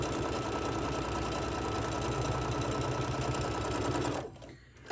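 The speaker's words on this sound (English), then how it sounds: "So I'm just going to go sew along the edge of this decorative fabric here." A sewing machine stitches along the edge of decorative fabric for a face mask, a loud steady close motor whir with rapid needle rattle that stops abruptly near the end.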